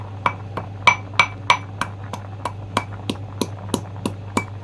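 Ginger is pounded and ground in a small toy kitchen mortar, a steady series of sharp, close knocks about three per second, some ringing slightly over a low hum.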